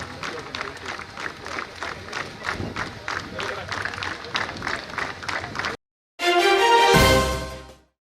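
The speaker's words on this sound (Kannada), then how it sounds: "ತಮ್ಮ ಅಮೂಲ್ಯವಾದ ಜೋರಾದ ಚಪ್ಪಾಳೆ." An audience at a police medal ceremony gives steady, rhythmic clapping for several seconds, then after a brief gap a louder burst of applause and crowd noise swells and fades.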